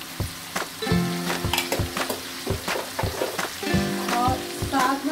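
Green chili, ginger and garlic paste frying in a pan for stuffed eggplant masala gives a lively sizzle, broken by repeated scrapes and clinks of stirring.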